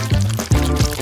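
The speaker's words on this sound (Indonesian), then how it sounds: "kamu harus membuka cetakan dan mengisinya dengan hati-hati dengan es krim" Ice cream being poured into a mold in a kitchen, a close, continuous wet pouring sound with three soft thick plops as the mixture lands.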